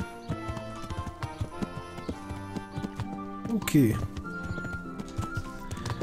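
Horse hooves clip-clop steadily during a ride in the medieval game Kingdom Come: Deliverance, mixed with game music and someone talking over them.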